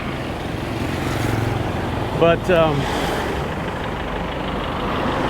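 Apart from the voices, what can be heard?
road traffic passing by, trucks and cars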